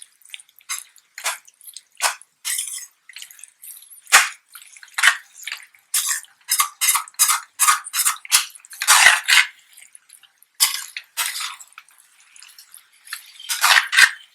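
Stir-fry mixture being stirred in a pan for an Indian-Chinese ginger garlic sauce dish, a rapid run of wet scraping, clacking and sizzling bursts, close and fairly loud, in irregular quick strokes with short pauses.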